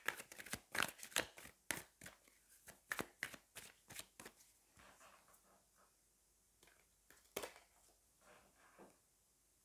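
Tarot cards being shuffled by hand, a quick run of crisp riffling snaps in the first half that thins out to a few scattered flicks and one last sharp snap, close and fairly quiet with no talking.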